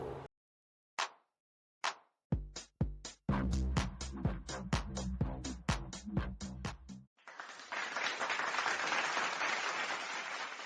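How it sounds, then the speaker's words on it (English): A host triggers an applause sound effect on a sports talk show; a burst of canned clapping and cheering enters near the end, after a run of sharp musical hits and beats. "Gotta have my applause, because if I don't applaud for myself, no one else is gonna."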